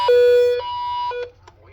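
A piercing electronic alert tone from an Emerson weather radio changes pitch in a few short steady segments, loud and close over a low hum, then cuts off.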